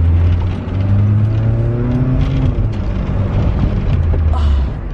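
A car passing close on a street, a loud low engine rumble and tire roar building and fading over a few seconds, with a woman vlogging nearby.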